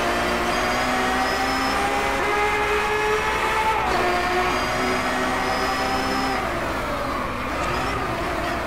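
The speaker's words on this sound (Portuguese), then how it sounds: "Esse som meio esquisito. Vem do câmbio, que é o câmbio de engrenagem reta." A Ferrari 599 XX Evoluzione, a 6-litre V12 race car with a straight-cut sequential six-speed gearbox, drones loudly and steadily with a high tonal whine that rises and falls as revs change, heard close with no talking.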